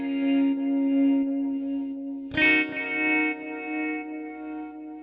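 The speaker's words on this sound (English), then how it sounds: "This yellow auto filter helps to add a little bit of that wah-wah sound." Sustained synth or instrument tone run through an Ableton auto filter set for a wah-wah sweep, with a sudden brighter attack midway and echoing, reverberant filtered tails.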